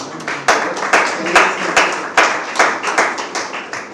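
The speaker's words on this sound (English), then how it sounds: "I think you all should clap" A small workshop audience claps in a loose, fairly regular rhythm, with sharp individual hand claps standing out close by over a softer bed of scattered clapping.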